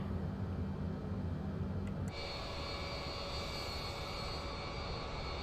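Boeing 787 Dreamliner jet engines in Microsoft Flight Simulator 2020 give a steady, loud cockpit roar with a broad hiss. Partway through, a low rumble drops away and a higher whine takes over, with no talk.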